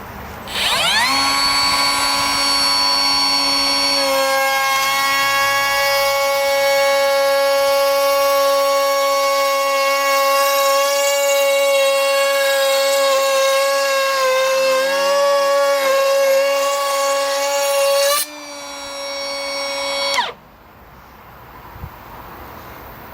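Milwaukee M18 half-inch cordless router cutting plywood at speed 3, a loud sustained high whine that rises slightly in pitch, dips under load midway, then cuts off and spins down near the end, close and alone.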